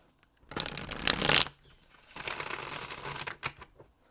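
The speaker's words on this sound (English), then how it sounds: "One more shuffle, guys." Tarot cards are shuffled up close in two bursts, a crisp riffling flutter followed by a pause and a softer, longer run of shuffling, with a couple of light taps at the end.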